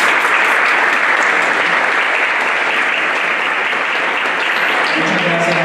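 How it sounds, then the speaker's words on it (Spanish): An audience at a legal talk with a judge applauds loudly and continuously, a dense, even wash of many hands clapping that holds steady throughout. "Un fuerte aplauso, por favor."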